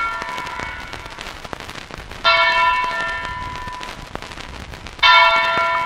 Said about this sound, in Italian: Le campane, le tristi campane fanno da colonna sonora all'ultimo giro di campo